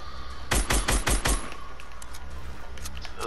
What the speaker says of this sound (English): use the turret and take it down